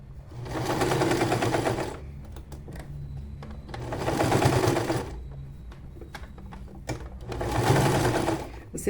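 A sewing machine stitches fabric while a piece is turned during sewing of a keepsake bear made from old clothes. It runs in three loud, close bursts of rapid chatter separated by quieter pauses, with a voice speaking in the background.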